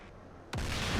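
A bomb blast in the DCS F/A-18C Hornet flight simulator bursts in suddenly halfway through, a loud, broad rumbling roar that sustains after a quieter hum of cockpit noise.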